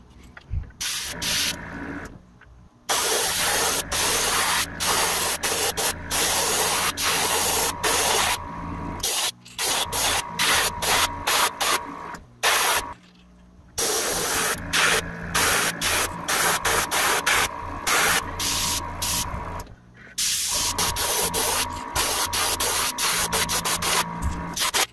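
Airbrush spray of pearlized silver paint being laid along the belly of a shad jerkbait lure, a steady close hiss in repeated bursts of a few seconds each, separated by brief pauses, with no talking.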